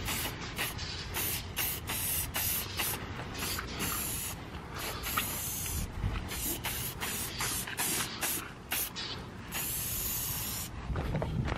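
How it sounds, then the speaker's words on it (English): Repeated short hissing sprays from a trigger bottle of detailing product onto a Duramax truck, a quick series of bursts close by with brief gaps between them. "Now what I'm gonna do is just spray this"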